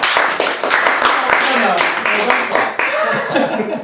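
A few people in a small room clap in quick, uneven bursts, mixed with laughter and chatter close by.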